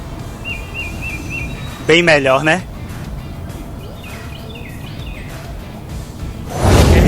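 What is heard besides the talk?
birds singing sound effect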